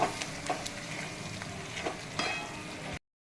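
Ground coriander and cumin frying in oil and stirred for a Bengali mutton kosha, a soft close sizzle with intermittent spatula scrapes and taps, cut off abruptly before the end.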